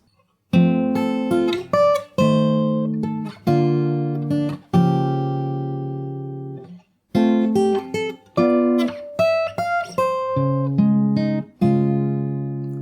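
Fingerstyle acoustic guitar picks out the Animal Crossing New Horizons theme, clear plucked melody over bass notes in short phrases with a brief pause midway, played solo and close.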